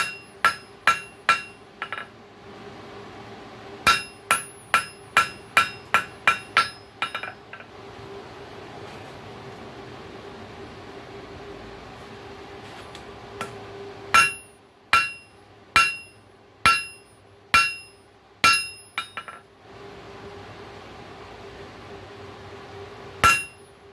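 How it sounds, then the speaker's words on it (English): A hammer strikes a cold chisel made from a coil spring to straighten it, sharp ringing metallic blows in quick runs of several hits separated by pauses, close and loud with no talk. "You don't have to hit real hard for adjustments."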